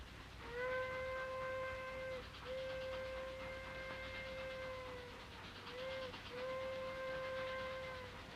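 A distant train whistle sounds in several long steady blasts over a rumbling, clattering train, fairly faint and far off.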